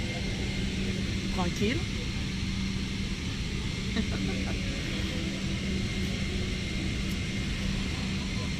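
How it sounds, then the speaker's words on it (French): Steady engine and ventilation hum fills an airplane cabin waiting on the ground before takeoff, a constant low drone with occasional clicks, while a person speaks over it. "Oui, je suis encore dans l'avion."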